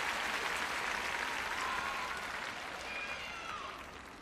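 A large crowd at a figure skating rink during the 2002 World Championships cheers and applauds in a steady, dense roar that carries on throughout, fading slightly toward the end.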